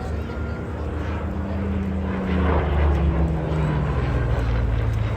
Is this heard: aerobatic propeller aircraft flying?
yes